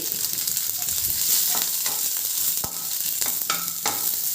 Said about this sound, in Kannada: ಇದು ಎಲ್ಲ ಚೆನ್ನಾಗಿ ಒಂದು ಸ್ವಲ್ಪ ಫ್ರೈ ಮಾಡಿಕೊಳ್ಳಿ